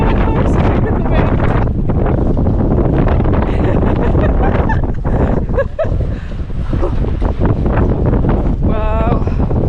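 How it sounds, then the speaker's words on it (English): Strong wind buffets the microphone at a seaside camp in Wales, roaring continuously and loudly throughout, with voices faintly under the gusts. "I'm sitting in the wind."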